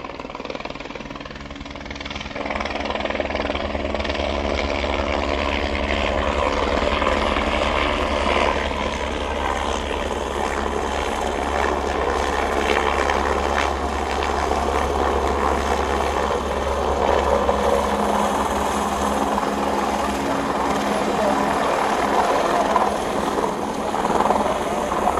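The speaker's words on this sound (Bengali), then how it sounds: "একটা হেলিকপ্টার এসে এখানে ল্যান্ডিং পয়েন্টে এসে ল্যান্ড করবে" A helicopter flies in and settles onto a mountain landing point on the Amarnath pilgrimage route, its loud rotor thrum and turbine whine building and holding steady for a long stretch at close range.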